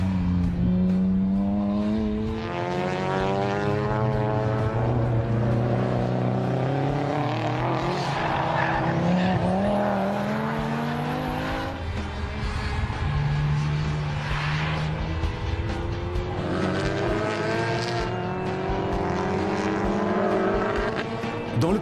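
Tuned time attack race cars cornering on a track, with several high-revving engines rising and falling as they brake, downshift and accelerate out of the turns, passing at close to medium range.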